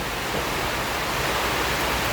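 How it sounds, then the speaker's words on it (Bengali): Heavy rain pours down in Sylhet, a dense, constant broadband roar that stays loud and steady throughout with no pauses. "আজকে যদি এই বৃষ্টি এখন থেকে নিয়ে সারা রাত চলে তাহলে সেম অবস্থা হবে"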